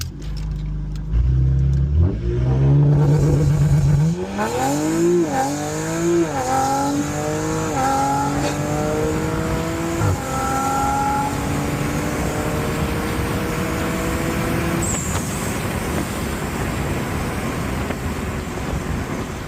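A tuned Audi RS5 launches hard, its engine revving loudly then pulling through several rising gear sweeps with brief shift breaks, heard from inside the car, continuous and loud.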